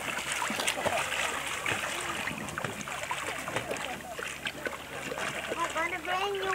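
A child swimming in the sea at a beach, with continuous splashing and churning water close by, while voices talk over the watery noise.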